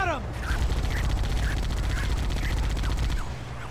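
A steady, rapid stream of automatic gunfire from a Halo firefight rattles on for nearly four seconds, close and loud, with a voice calling out over the shooting.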